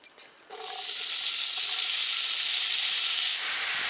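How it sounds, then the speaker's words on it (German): Ham cubes land in a hot Dutch oven and break into a loud, sharp sizzle that holds steady for about three seconds, then eases slightly, close up with no talking. "Wenn die Schinkenwürfel schön vor sich her brutzeln"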